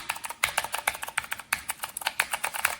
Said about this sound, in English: another company's blue switch 10 key